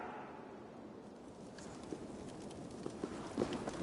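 Horse hooves clip-clop in Assassin's Creed Valhalla, light irregular hoof taps rising over a steady outdoor ambient wash, growing slightly more distinct toward the end.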